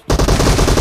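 Rapid automatic fire from an M762 rifle in PUBG Mobile, a continuous burst of closely spaced shots, loud and near, running steadily after a brief silent start.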